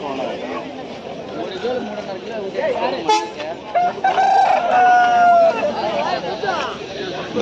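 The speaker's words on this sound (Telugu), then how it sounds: "చూడండి తూకం కోళ్ళు ఇక్కడ" Chickens, including a crowing rooster, sound out at a busy Sunday market in Pileru, rising over a constant murmur of people talking nearby.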